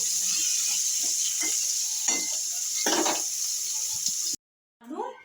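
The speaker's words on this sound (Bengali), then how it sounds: "আমি এবার পটলগুলো ভেজে নেবো একটু লাল করে পটলগুলো ভেজে দিচ্ছি" Pointed gourd pieces frying in oil in a wok, a steady close hiss and sizzle with intermittent stirring scrapes and bubbling bursts, ending in a brief cut to silence and a short final rustle.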